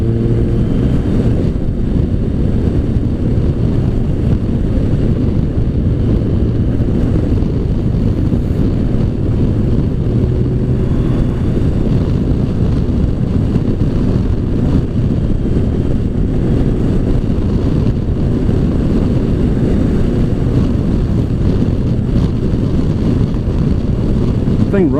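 A Kawasaki Concours 14 sport-touring motorcycle with nearly 100k miles cruising on the road, steady engine drone mixed with heavy wind rush across the microphone, continuous and loud throughout.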